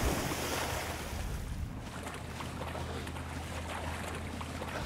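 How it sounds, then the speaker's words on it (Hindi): Police boat cruising on open water in the video game Sleeping Dogs, with a steady low engine drone and washing waves under wind noise, continuous and fairly loud throughout. "पुलिस की भी नाव घूम रही है"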